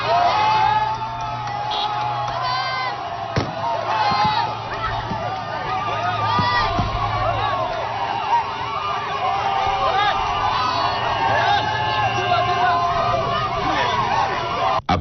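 A jubilant crowd in N'Djamena cheers and whoops as a military convoy of special antiterrorist forces enters the city, a steady roar of voices, shouts and calls throughout.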